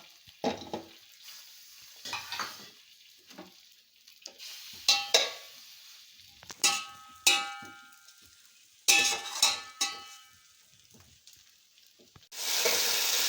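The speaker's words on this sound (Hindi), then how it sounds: "मैं ये घी डाल रही हूँ, 1 प्याली घी मैंने ले लिया था।" Ghee, about one cup, heated in a cooking pot for jaggery rice, heard as a series of metallic clangs and clinks from a spoon and pot with bursts of sizzle, close by, ending in a sudden steady hiss.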